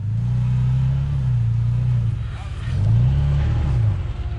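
A Can-Am UTV engine revs hard on an off-road trail while it struggles to climb over a log, with two rising and falling surges of low rumbling under voices talking nearby.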